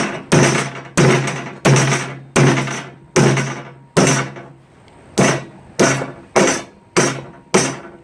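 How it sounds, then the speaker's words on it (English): Eleven loud, sharp metallic hammer strikes on a barn door hardware bracket ring out in a steady rhythm, each one resonating briefly, with a short pause midway. "now we just get our hammer and hammer it down"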